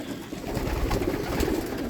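Young pigeons coo softly and continuously inside a loft, layered over a dense background hum.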